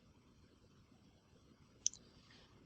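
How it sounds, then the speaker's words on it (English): A single faint mouse click sounds once in a quiet room, a short sharp tick against a low hum with nothing else happening. "We can go ahead and click Save."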